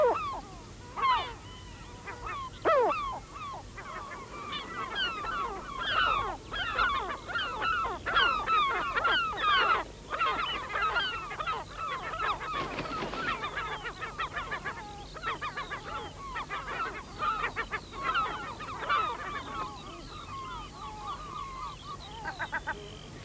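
A gull gives repeated harsh alarm calls in rapid bursts, loud and close, with several birds calling over one another against a steady low hum, and no voices.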